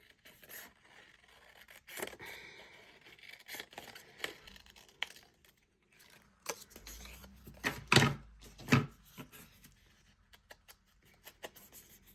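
Paper for a junk journal folio is trimmed up close, with light handling rustles and scrapes followed by a few sharp, crisp snips or cuts that stand out near the end, against otherwise quiet surroundings.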